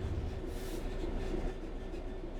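Simulated train rolling along the track in Train Sim World 3, a steady, loud low rumble of wheels and carriage running continuously throughout, with no talking.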